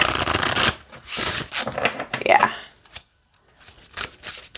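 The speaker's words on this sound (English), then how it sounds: "Since it is a flexible cardstock, you can still shuffle it just as easily" Flexible cardstock oracle cards are shuffled in several quick riffling bursts, close and crisp, with brief pauses between handfuls and a voice speaking briefly.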